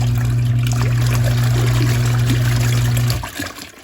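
A portable washing machine runs with a steady motor hum while water sloshes and trickles inside, loud and continuous for about three seconds before cutting off abruptly.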